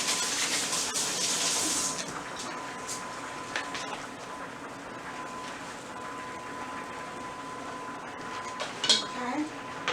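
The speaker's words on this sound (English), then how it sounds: "I'm going to wash my hands real quick" Kitchen faucet running as hands are washed during holiday dinner cooking, a steady broadband rush strongest in the first two seconds, then quieter trickling with a faint tone and a few clinks near the end.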